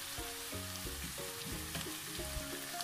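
Oxtail pieces sizzle steadily as they are stir-fried in a pan with garlic, ground pepper and garlic powder, with soft stirring scrapes throughout and a low, steady tone running underneath.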